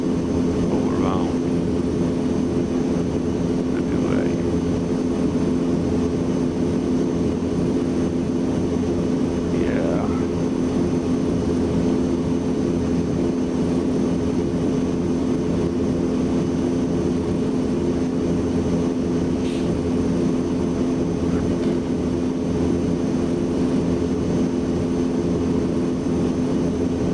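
A propeller aircraft engine in Microsoft Flight Simulator 2024 produces a constant droning hum with a steady tonal whine, running unbroken at a fairly loud level, with faint, brief voice-like sounds over it.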